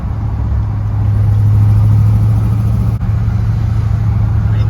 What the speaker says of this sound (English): You can hear the slight exhaust leak, but it's not too bad.